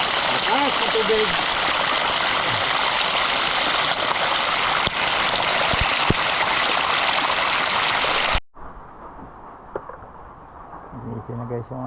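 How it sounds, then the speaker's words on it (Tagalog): Strong rushing stream water, broadband and loud for about eight seconds at a riverside abalong hunt, then cutting abruptly to quieter surroundings with faint voices and small sounds. "Lakas ng tubig."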